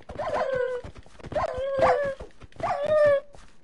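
Dogs in a video game give three evenly spaced bouts of howling and whimpering, each a rising then falling whine, fairly close and loud against quiet background.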